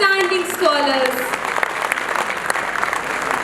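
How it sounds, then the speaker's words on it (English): An audience at an annual day school ceremony applauds outstanding scholars, a loud burst of clapping that starts under a voice and a sustained musical tone, then settles into steady scattered clapping. "Please join me in applauding for these outstanding scholars."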